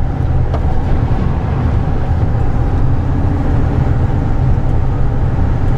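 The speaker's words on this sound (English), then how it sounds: "this van goes down the road pretty smoothly" Steady, continuous road rumble and engine drone from inside a 2010 Ford E-350 service box truck van cruising smoothly, a loud, unbroken low-pitched noise with no talking.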